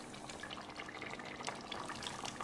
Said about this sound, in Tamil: இதில் நம்ம அரைச்ச தேங்காய் விழுதையும் ஊற்றிடலாம்